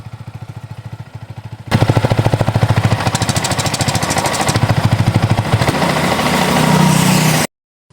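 A Yamaha R15 motorcycle engine idles with a steady rapid exhaust pulse, then revs up louder and holds before cutting off, close and alone.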